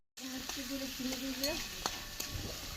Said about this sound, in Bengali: পেঁয়াজগুলো তেলে দিয়ে কিছুক্ষণ লাল হওয়া পর্যন্ত ভেজে নিলাম